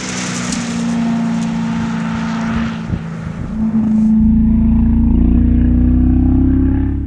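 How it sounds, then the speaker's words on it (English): Porsche sports car exhaust with 638 horsepower, driven in wet mode with PTM traction control holding back power, a loud, close engine drone that deepens and swells into a sustained roar. "Listen to the exhaust. You can hear the PTM holding back those 638 ponies."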